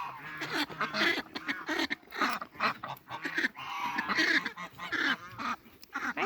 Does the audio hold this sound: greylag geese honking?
yes